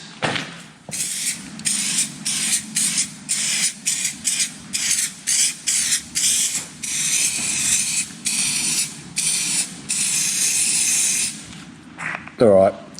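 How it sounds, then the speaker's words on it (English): Short bursts of Hylamar sealant sprayed from an aerosol can onto Detroit Diesel heat exchanger gaskets hiss in an uneven series of close, sharp pulses, with a brief voice near the end. "I'm going to put a Hylamar spray on"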